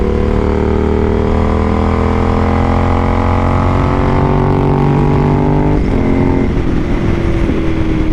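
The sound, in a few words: motorcycle engine idling with new exhaust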